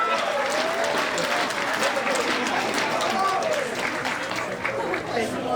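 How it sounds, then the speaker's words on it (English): An audience at the closing ceremonies of a fan convention claps in a steady round of applause, with crowd chatter and voices audible through the clapping the whole time. "let's give once again the Silver Fox a round of applause here"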